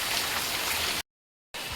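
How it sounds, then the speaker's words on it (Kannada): Heavy monsoon rain beside a river, a dense, steady hiss of downpour that cuts out completely for half a second before resuming at the same strength. "ನೋಡಿ ಮಳೆ ಯಾವ ರೀತಿ ಬರ್ತಾ ಇದೆ ಅಂತೇಳಿ, ತುಂಬ ಜೋರಾಗಿ ಬರ್ತಾ ಇದೆ."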